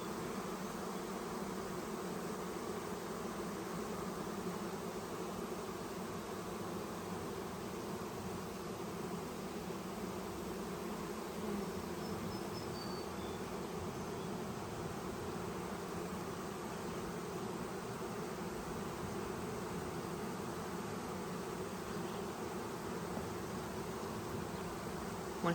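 A honeybee swarm being caught outdoors gives a dense, continuous buzz that holds steady and fairly loud for the whole stretch, with no talking over it.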